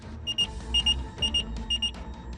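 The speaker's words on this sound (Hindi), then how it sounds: "इस एक रहस्यमयी मैसेज के साथ ही बीप की आवाज आनी शुरू हो जाती है" A pager beeps on receiving a message, giving four quick paired electronic bleeps in a steady repeating rhythm, clear and close over low background noise.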